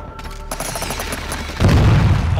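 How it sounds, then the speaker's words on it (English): Rapid gunfire crackles in Call of Duty, a string of sharp close shots, then a grenade explosion lands with a heavy low boom that keeps rumbling to the end. "Grenade out."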